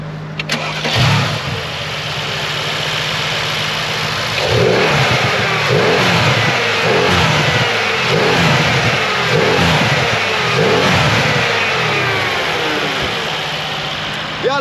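A car with a completely stock exhaust starts up, then revs repeatedly in a steady series of loud, rising and falling blips before settling toward idle, close and prominent.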